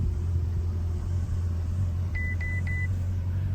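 A Ferrari 488 GTB starting from the push button: a steady low engine rumble settles into idle while three short electronic beeps chime near the end, close and fairly loud, with no talking.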